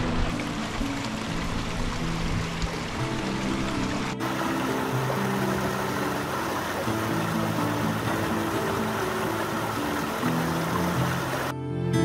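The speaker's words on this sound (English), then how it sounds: "Up to where the trail crosses 5 Mile Creek." Five Mile Creek runs steadily where a hiking trail crosses it near a fire lookout, a continuous close rushing wash of water that stays even throughout, with a brief lower rumble early on.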